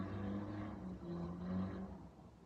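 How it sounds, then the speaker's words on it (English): A truck engine revving up with a rising, wavering note that swells twice, faint and somewhat distant, with a low rumble beneath. "the truck just went back again and just went up faster"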